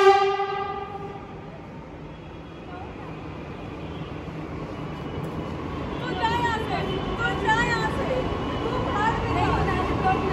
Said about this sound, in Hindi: और हमारी मेट्रो भी आ गई